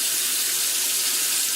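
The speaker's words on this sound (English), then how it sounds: "start by turning on your faucet to the hottest setting it'll go to" A kitchen faucet runs hot water at full flow, a steady, loud, broadband hiss with no talking.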